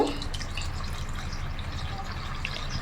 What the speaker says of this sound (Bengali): এখন সামান্য পরিমাণ একটু জল দিয়ে দেব।